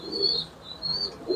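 Large fancy pigeons coo softly in a loft, with low repeated burbling calls rising and falling alongside a thin, high whistling tone, fairly faint and without speech.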